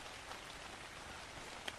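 Rain in the video game Ark: Genesis, a steady soft patter of raindrops throughout with one brief sharper drop.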